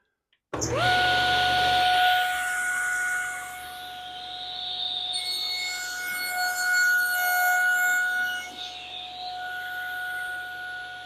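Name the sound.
table saw cutting a tenon with a jig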